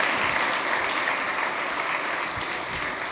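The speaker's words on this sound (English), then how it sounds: "Big round of applause from Alan" Conference audience applauding at a tech storage event, a dense, even sheet of clapping from a large hall that holds steady throughout with no talk over it.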